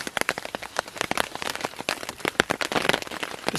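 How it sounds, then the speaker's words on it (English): Heavy rain pours down on a winter campsite, mixed with sleet and snow, a dense, continuous patter of close, crackling drops striking surfaces with no talk. "It's just pouring down."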